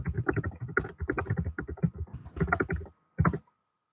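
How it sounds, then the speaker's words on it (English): Rapid, irregular clatter of fingers typing on a computer keyboard, close and fairly loud, running in quick bursts for about three seconds, then a pause and one short final flurry. "Just typing."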